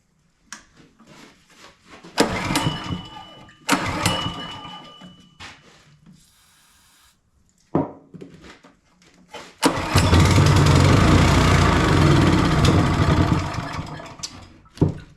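A Kohler 6.5 small engine left outside for ten years is pull-started with a few sputtering cranking attempts and pauses, then catches and runs loud and rough at close range.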